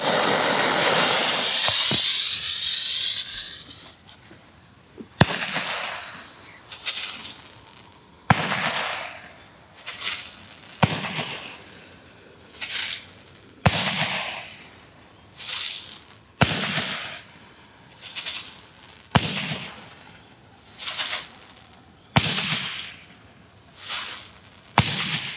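Black Cat Gatling Pack mini Roman candles fire one after another outdoors, a loud hissing fuse opening into about eight sharp, evenly spaced whooshing pops with short crackling tails, no voices.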